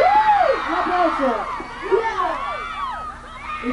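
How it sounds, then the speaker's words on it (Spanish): Concert crowd at a rock show cheering and whooping, a dense wash of excited shouts and high yelps, moderately loud and sustained, with a voice over a PA mixed in. "¡Un aplauso!"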